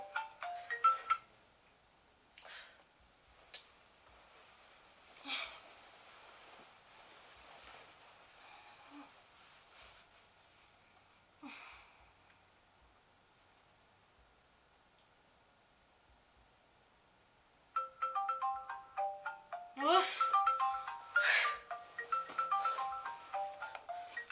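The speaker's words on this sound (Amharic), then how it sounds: "አንቺ ስልክሽ እየጠራ ነው።" A mobile phone ringtone plays in melodic bursts, loud and near, first briefly at the start and then continuously toward the end, with quiet ticks and rustles between.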